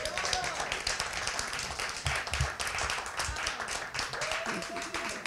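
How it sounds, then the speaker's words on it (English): Audience applause in a hall during a film festival Q&A at the Hamptons Doc Fest, dense steady clapping throughout with some voices mixed in. "So I can just tell you there's resounding applause."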